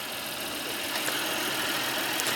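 A 2017 Honda Pilot Elite AWD engine idles after a remote start, a faint, steady hum with a soft hiss and no voices over it.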